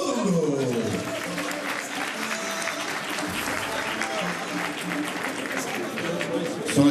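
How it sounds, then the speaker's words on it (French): Crowd applause at an amateur boxing event, a continuous spread of clapping and cheering around the ring, fairly loud throughout, with an announcer's voice over it at the start and a swell at the end. "On l'applaudit."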